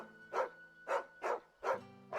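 Four evenly spaced barks from a dog in the Final Fantasy XVI video game, moderately loud and close, with a low steady tone running underneath and no speech.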